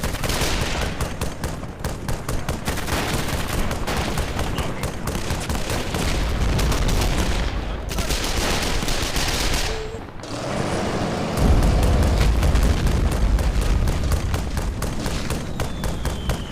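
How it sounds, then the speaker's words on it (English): Sustained MG42 machine gun fire in a World War II battle game set at Küstrin, rapid continuous bursts mixed with booming explosions and heavy thuds, loud and relentless throughout. "It's one single guy with an MG42 that's keeping me pinned back here"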